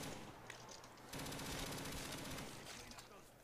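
Rapid automatic gunfire from a weapon in a Call of Duty custom zombies map, a dense sustained burst that kicks in partway through and keeps hammering over steady game noise.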